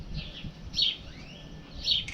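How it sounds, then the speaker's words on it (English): Outdoors, a bird gives two short, bright calls about a second apart, moderately close and clear over faint background noise with no talk. "that's my favorite bird noise, by the way, is that woo"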